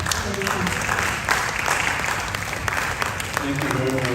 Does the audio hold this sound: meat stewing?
no